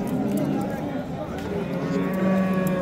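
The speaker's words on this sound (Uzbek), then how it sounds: "3 yoshli buqamiz" A three-year-old bull lowing at a livestock market in Yangiqorgʻon, a loud close moo with a drawn-out tone under busy market chatter and background voices.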